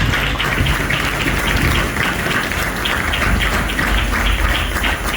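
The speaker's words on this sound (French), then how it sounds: "On acclame la parole." Church congregation applauding, a steady dense wash of clapping hands that fills the whole stretch without pause.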